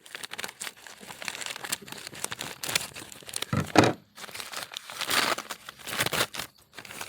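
Packaging around an unboxed Hoya plant is cut with scissors and unwrapped: crinkling plastic and paper, short tearing rustles and snips, close and uneven, with no talk.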